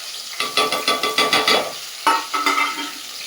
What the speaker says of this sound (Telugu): జీలకర్ర వేగినాక కొంచెం ఫస్ట్ ఆనియన్ వేసుకోవాలి.